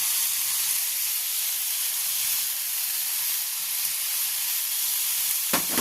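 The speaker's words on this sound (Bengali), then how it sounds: "এবার আমি এর মধ্যে মাছটা দিয়ে দিলাম।" Fish hits hot, fully fried spice masala in a pan and sets off a steady, loud hiss of sizzling that holds evenly throughout, ending in a brief sharp clatter.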